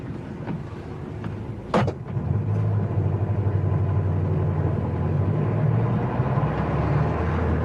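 A taxi in a radio-drama car chase: a car door clunk, then a steady mid-pitched engine running loud and close, holding a constant drone for several seconds with no voices.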